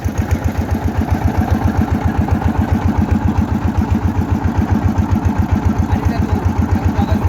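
A fishing trawler's engine idling in Medan: a close, loud, rhythmic low thumping that pulses at a steady rate throughout, with a faint mechanical hiss over it.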